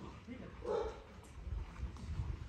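A young Mastiff-type dog gives a muffled bark and soft whimpering whines amid rustling movement, while a person talks nearby.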